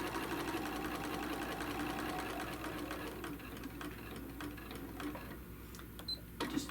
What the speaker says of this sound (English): And so we'll stitch that across.